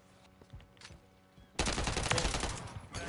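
Automatic gunfire in Modern Warfare 3, a sustained burst of rapid shots that breaks out loud and close midway after a quieter stretch of scattered distant pops.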